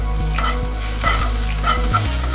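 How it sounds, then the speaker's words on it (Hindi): Sesame seeds and onions cook in hot oil for spicy masala paneer, a steady close sizzle broken by repeated scrapes and taps of a stirring spoon. "अब ये थोड़ा सा ऑयल डाल के मैं इसमें थोड़ी सी सेसमे सीड्स डाल रही हूँ"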